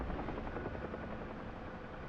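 Huey helicopter in the flight simulator DCS, its rotor and turbine making a steady, loud, close drone with a dense low chop that holds for about two seconds without a break.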